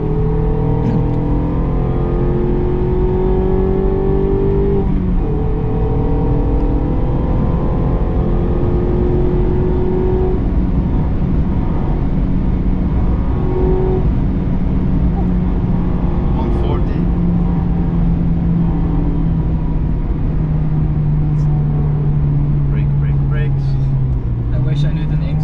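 A Porsche GT4 RS laps the Nürburgring Nordschleife, its engine note rising and falling in steady drones through gear changes while someone talks over it the whole time.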